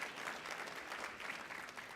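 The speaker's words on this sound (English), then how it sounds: "That deserves a round of applause, absolutely." Audience at an awards night clapping steadily, a dense, even wash of applause throughout, moderately distant and without voices over it.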